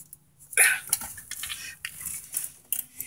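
Metallic clinks and scrapes of a wrench tightening a metal fitting on a car rear disc brake conversion, irregular taps and rattles close up, with no voices.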